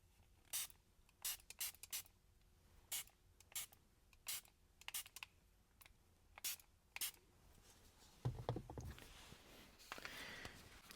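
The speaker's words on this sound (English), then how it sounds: "So next step is to spray the mist again." Water mist is sprayed from a bottle during a screen protector install on an MK7.5 Golf R infotainment screen, a run of about a dozen short, crisp hissing spritzes in quick rhythm, close and quiet, followed by rubbing handling noise.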